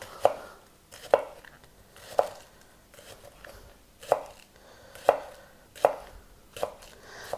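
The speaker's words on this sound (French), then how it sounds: "on va émincer l'oignon" A knife slices through an onion on a cutting board for kimchi, sounding as about eight crisp, evenly spaced chops up close in a quiet room.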